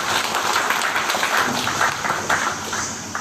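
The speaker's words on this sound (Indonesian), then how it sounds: "tepuk tangan dulu" A gathering of officials at the inauguration of a state Hindu religious institute gives a moderate round of applause, with irregular clapping that carries steadily for a few seconds.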